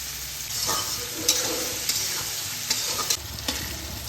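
Chopped onions fry in a pan for an aloo chicken curry, a steady close sizzle broken by repeated scraping stirs of a spatula against the pan.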